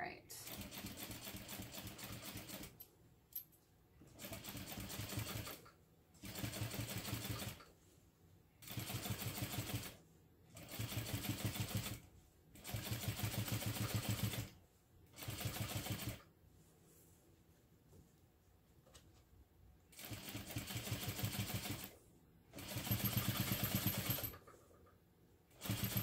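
A home sewing machine stitches fabric in repeated bursts of steady rapid whirring, each a few seconds long, separated by short pauses. A voice talks nearby between the runs.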